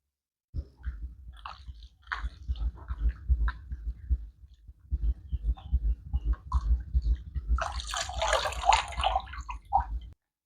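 Spinach leaves are washed by hand in a bowl of water, with sloshing, splashing and wet rustling in uneven bursts, close by and growing busier near the end, with no talking.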